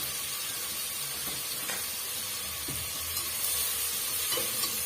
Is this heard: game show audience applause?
no